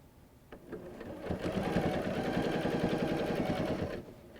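A sewing machine stitches steadily across quilt fabric in a continuous rapid run of needle strokes, starting after a brief pause and stopping cleanly near the end, close and fairly loud with no talking.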